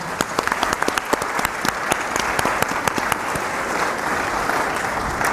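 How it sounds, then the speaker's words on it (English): An audience at an international film and TV market gives a round of applause, a steady wash of clapping with individual sharp claps standing out near the front. "I will ask you to give a round of applause to a very wonderful gentleman."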